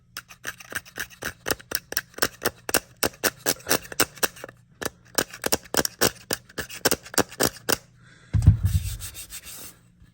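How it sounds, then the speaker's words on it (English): Repeated sharp scraping strokes on powder-coated metal in a quick uneven rhythm, then one heavier, lower rasp near the end. "So it's just scraping it up, but it's not peeling them up."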